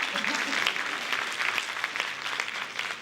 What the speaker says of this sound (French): moi je vous applaudis parce que vraiment c'est une salle merveilleuse